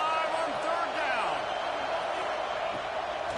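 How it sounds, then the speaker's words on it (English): Stadium crowd noise from a college football video game, Ohio State hosting Nebraska, a steady loud roar of cheering on third down running throughout under a commentator's play-by-play voice. "The Buckeye crowd alive on third down."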